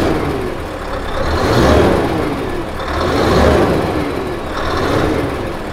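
A Scania 770 S V8 truck engine with custom exhaust stacks revs three times in slow succession, a deep rumbling roar that swells and falls at close range with no talk.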